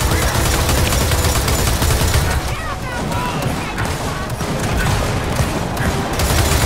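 Sustained, loud automatic gunfire from Gears of War 4 forms a dense, rattling barrage that runs almost without pause, easing only briefly in the middle, with voices talking over it.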